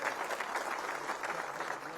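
Crowd applause at an outdoor political rally in Rajasthan, a steady dense clatter of many hands clapping that holds even for two seconds with no pauses.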